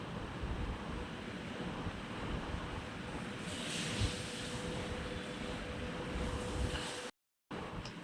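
Green chillies and tomatoes with salt sizzle steadily as they are sautéed in a pan, a continuous broadband frying hiss with no talking and a brief dropout near the end.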